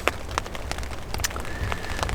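Steady rain patters on a surface, with scattered louder drops and a faint background hiss throughout.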